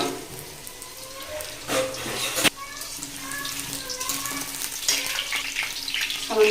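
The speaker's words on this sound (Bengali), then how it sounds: "তার জন্য প্রথমে আলুটা ভেজে নেব" Potatoes frying in oil with a little salt and turmeric, a close bubbling sizzle with some clatter and a sharp knock midway, as background for chicken kosha.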